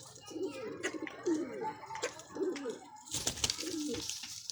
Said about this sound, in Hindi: ये देखें ये कबूतर